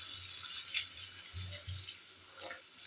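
Water poured into a cooking pot for a fish curry, a short gurgling splash and running stream with a few drips, fairly soft and close, no voices.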